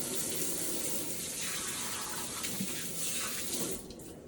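Tap water runs steadily into a sink while a hand is washed, a continuous close splashing hiss that thins out near the end.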